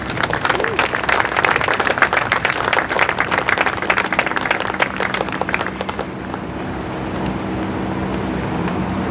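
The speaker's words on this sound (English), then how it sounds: "So a big round of applause to the Spouse." A crowd at a military change of command ceremony gives loud, dense applause for the Spouse Foundation, tapering into quieter background noise after about six seconds.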